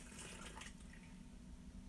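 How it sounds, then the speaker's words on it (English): Hot water pouring into flour and eggs in a stand mixer bowl, a steady, fairly faint rushing splash that carries on throughout. "we're going to add 2/3 cup of hot water"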